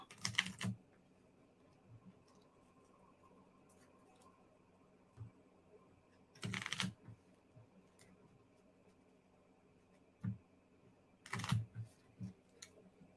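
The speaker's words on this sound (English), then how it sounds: "I'm going to shuffle these up." Several short bursts of papery riffling and clicking, spaced apart with quiet pauses between, as HeroQuest treasure cards are shuffled up close.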